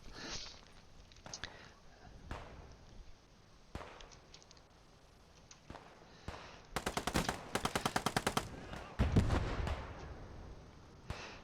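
Gunfire in the shooter game Post Scriptum, including Kar 98 rifle shots: scattered sharp cracks, then a rapid burst of repeated shots and heavier blasts, with quiet voices between them.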